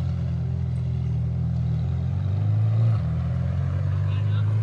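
A supercar moving off on a street in Brazil gives a steady low engine rumble that swells a little partway through and then holds, with a faint background wash.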